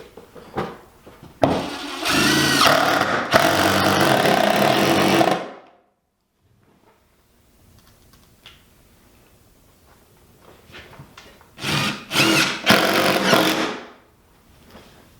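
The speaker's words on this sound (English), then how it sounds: "So as you can see, it drills in really fast." DeWALT 20-volt impact driver sinking 2-inch screws into wood: two loud, close bursts of rapid hammering whir, each a few seconds long, separated by a quiet pause with faint handling noise.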